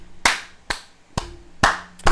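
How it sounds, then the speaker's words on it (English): Five sharp, loud hand claps in a slow, uneven rhythm, each ringing out briefly before the next, with no voices. "A big fat round of applause for fucking Ethereum itself"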